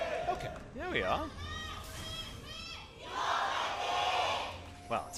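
A packed esports arena crowd at a League of Legends LCK Summer Split match, Ever8 Winners against SKT, yells and cheers in rising, swelling waves, loud and reverberant, with a caster talking over parts of it.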